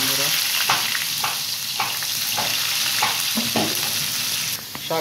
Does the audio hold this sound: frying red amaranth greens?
yes